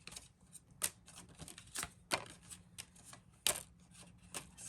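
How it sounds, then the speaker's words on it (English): Oracle cards being shuffled and pulled for a reading, giving a string of quiet, crisp card flicks and slaps in an irregular rhythm, close up and soft, with no talking. "We'll go ahead and pull some cards."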